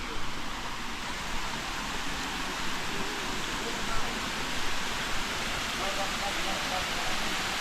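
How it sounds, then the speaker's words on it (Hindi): Waterfall at the Chandigarh Rock Garden, a steady broadband rush of falling water, constant and fairly distant, with no change across the stretch. "सामने का सीन ऐसा भाई वाटरफॉल का।"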